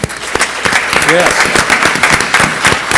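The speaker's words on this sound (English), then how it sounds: "Can we give a hand clap to Matt Hall?" An audience at an outdoor San Diego officials' coronavirus briefing claps steadily for several seconds, dense close applause with a brief spoken word near the start and a few vocal sounds within.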